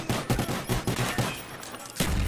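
Rapid gunfire in the Call of Duty Black Ops video game, including pistol shots, a quick run of sharp, loud cracks in an uneven burst, followed by a short pause and one more shot.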